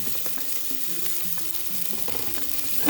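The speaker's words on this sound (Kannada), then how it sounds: "ಪುದೀನಾ ಸೊಪ್ಪು ಹಾಕಿ ಫ್ರೈ ಮಾಡ್ತಾಯಿದ್ದೇನೆ." Mint leaves frying in a pan for chicken biryani, a steady close sizzle with occasional stirring scrapes and no talking.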